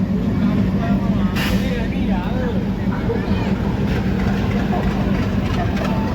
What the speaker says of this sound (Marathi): आपली पंढरपूर तिरुपती एक्सप्रेस पोहोचली आहे सिकंदराबाद जंक्शनवर